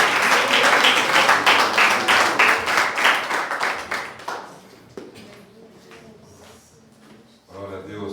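Church congregation at a Thursday service applauding loudly for about four seconds, the clapping fading out into quieter room sound, with voices joining near the end.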